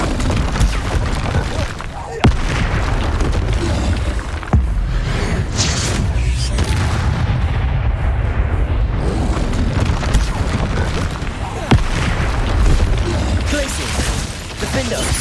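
Confringo fire spells in the Hogwarts Legacy video game burst in a rapid series of deep booming explosions, with sharp blasts standing out among dense combat noise and a shouting voice.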